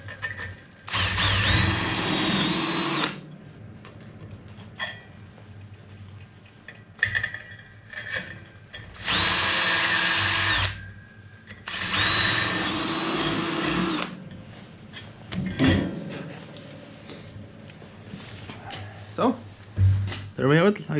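A power drill drives screws during an LED light install on a Valmet 505T tractor: several loud, sustained whirring bursts of a few seconds each, with someone talking in the gaps between them.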